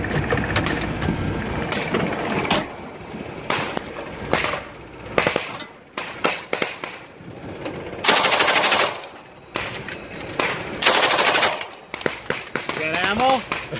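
Bursts of machine gun fire during the Talisman Saber 2017 military exercise, loud and close, arriving in several long and short strings with pauses between them, with people talking over and between the shots.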